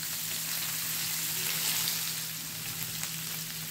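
Paneer grilling in a pan, a steady, even sizzle with a faint low hum underneath, close but fairly quiet, with no talking.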